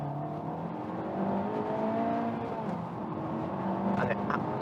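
A Honda Civic Type R FK8 on Michelin PS tyres pulls hard in first gear, engine note climbing steadily inside the cabin, with a voice talking over the rising drone.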